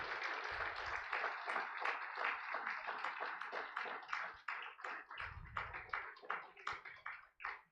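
An audience at a conference event claps in a sustained round of applause, dense overlapping hand claps that thin out into scattered individual claps toward the end, fairly distant.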